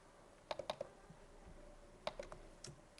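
Computer keyboard keys tapped in two short bursts of a few clicks each, close and fairly faint, with quiet pauses between them and no talking.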